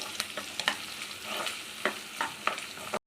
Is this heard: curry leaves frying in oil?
yes